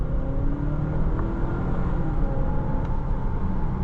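Cabin sound of a 2026 Volvo XC60 B5 Core pulling away under acceleration, a steady engine hum and road roar that rises gently, with no one talking.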